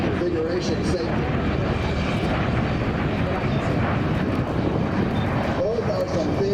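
A Marine MV-22 Osprey tiltrotor sweeps by in a high-speed low pass at about 500 feet and 260 knots, its big proprotor blades giving a steady, loud broadband roar throughout, with a voice talking over it.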